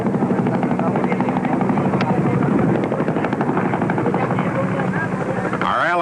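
A helicopter's steady rotor roar fills the scene, with voices and other noise mixed in over it.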